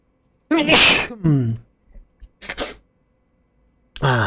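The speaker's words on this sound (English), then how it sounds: "Hold on, I'm going to sneeze" A person sneezes loudly and close up, a sharp burst followed by further short, breathy bursts and a second sneeze after a pause, with near silence between them.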